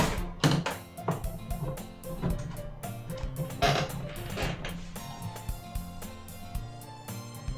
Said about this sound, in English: So, pardon for the printer noise.